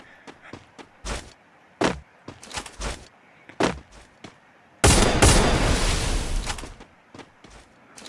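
Gunfire in the Free Fire video game during a one-versus-one match: several sharp, separate single shots at irregular intervals, then a longer burst of loud, sustained noise, with no talking.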